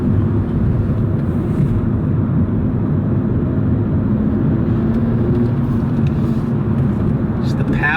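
A new car's engine droning steadily while driving, a continuous low rumble with road and cabin noise throughout, and a voice talking over it.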